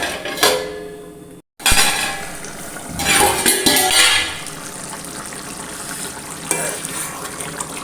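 A metal lid clanks onto a pot of chicken simmering for Kerala chicken mulakittathu, with a few close clattering knocks of cookware over a soft background hiss of cooking.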